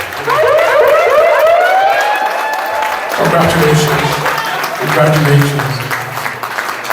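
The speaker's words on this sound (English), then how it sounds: "Standing ovation, round of applause." A standing ovation for newly sworn-in officers at the Liberian Association of Indiana's inaugural ball: steady, loud crowd applause with rising whistles or ululation and voices calling congratulations over it.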